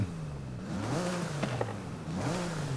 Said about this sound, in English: It revs really quickly.